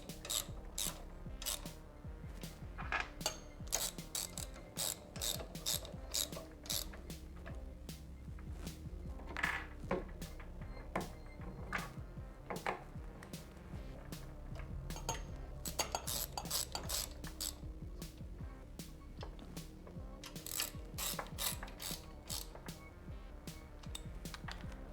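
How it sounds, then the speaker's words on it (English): Metal crash bar bolts on a Honda Grom MSX125 motorcycle being tightened by hand, giving quiet close clicks, rattles and scraping taps in irregular bursts with a low background hum. "So first I'll tighten them by hand."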